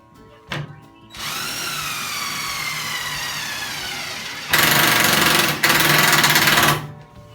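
An impact driver whines up as a 1.5-inch self-tapping screw drives in, then a louder rapid hammering impact burst runs for a couple of seconds before stopping.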